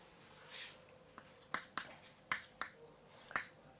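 Chalk or marker writing on a board during a Hindi-medium maths lecture on parabolas, a series of crisp taps and scratchy strokes in an irregular rhythm, faint and close, with no talk over it.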